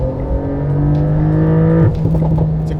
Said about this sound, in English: The GTS also has a specific exhaust that, when switched to sport, is actually quite loud.